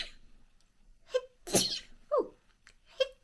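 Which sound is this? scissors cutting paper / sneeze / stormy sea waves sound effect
sneeze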